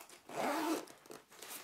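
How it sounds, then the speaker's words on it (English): Zipper sliding closed on a Simboom 15.6-inch laptop sleeve holding an Acer Swift 3 laptop, one close, steady zip of about half a second, then faint handling rustles. "sliding the zipper closed."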